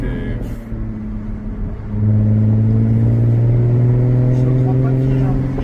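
Jaguar F-Type V6 with 340 hp and a stainless steel exhaust rumbles at idle, then the revs climb at about two seconds into a loud, sustained droning rev, close to the microphone.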